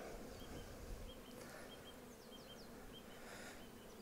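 Honeybees drone steadily and softly from an opened spring hive colony as the frames are lifted, with a continuous low buzz and a few individual bees whining past close by.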